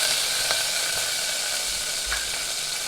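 Curry leaves and mustard seeds splutter in hot oil with a close, continuous crackling sizzle and a few sharper pops, and no voices.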